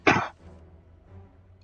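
One sharp, close cough bursts out and dies away, followed by quiet room tone, from a person with a lingering bad cough.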